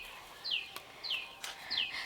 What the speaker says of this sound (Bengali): কি সুন্দর পাখি ডাকছে